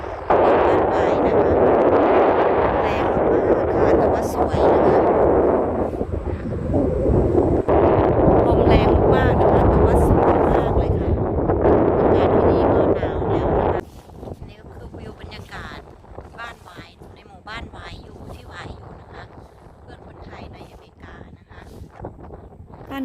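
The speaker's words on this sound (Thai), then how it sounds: "ลมแรงมากๆเลยค่ะ" Strong wind batters the microphone outdoors beside a house on a mountain, with loud roaring gusts for about fourteen seconds that drop to a lighter, choppier buffeting, and someone speaking at times under the wind.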